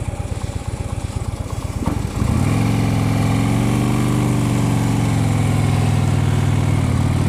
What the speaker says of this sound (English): now you see I'm riding about a 1500cc motorcycle